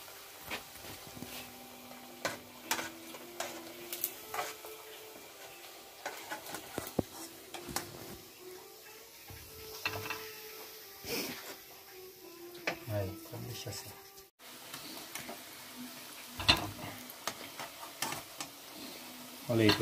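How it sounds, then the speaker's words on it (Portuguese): Precooked traíra fish balls fry briefly in oil, a soft crackling sizzle with scattered ticks and pops, faint and close, while a person talks intermittently over it. "Só uma fritadinha porque ele já é pré-cozido."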